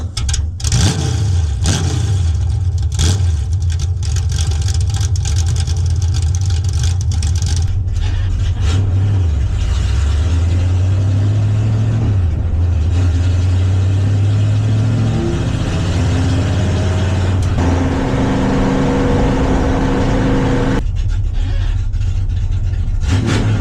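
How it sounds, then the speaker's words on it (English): A 1971 Plymouth Satellite V8 with straight-piped exhaust, recorded from behind the car, idles with a loud, rough, continuous rumble and rises and falls through several revs before settling back to idle. "I'll let y'all hear what this car sounds like straight piped."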